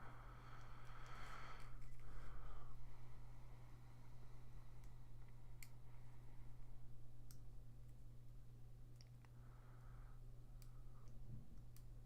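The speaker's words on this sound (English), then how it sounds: "Most of them I can do with just a couple of snips of the God hand here, no problem." GodHand nippers snip plastic parts from a Master Grade Aura Battler Dunbine model kit, sparse sharp clicks scattered over steady low hum, close and quiet.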